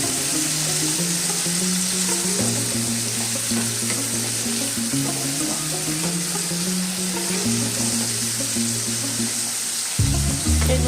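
Bitter gourd fries in hot oil in a pan for a tetor torkari, producing a loud, continuous sizzle over steady low tones that shift partway through.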